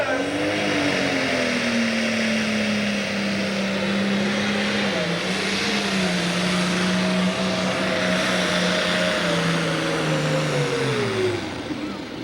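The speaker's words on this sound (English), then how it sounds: "Brings the turbo up to speed. The track is his, and away we go." Turbocharged hot rod launching down a drag strip at the 1995 USHRA Evansville, Indiana event: a loud, sustained engine roar rising and gradually falling in pitch as it pulls away.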